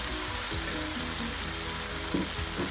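Fried baim fish going into hot masala for a dopeyaja, a loud continuous sizzle and crackle of frying oil with a few soft stirring knocks underneath.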